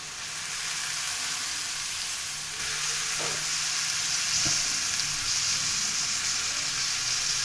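Chopped vegetables lightly sauté in a pan for a veg bread sandwich, a soft, steady sizzle with an occasional faint clink of a spoon stirring.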